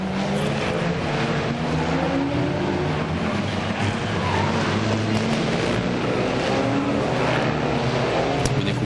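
Historic racing cars, among them a Maserati, circulating at the Monaco Historic Grand Prix, a continuous loud blend of engine roar and droning exhausts with no distinct single pass-by standing out.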